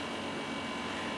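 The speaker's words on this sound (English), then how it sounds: "No, that's the sound of the air conditioning." Air conditioning running in a room, a steady, even broadband hum and hiss that holds unchanged throughout at a low, constant level with no voices.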